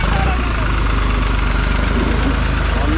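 A tractor engine idles in a steady, loud, low rumble that holds throughout, with voices faintly audible underneath.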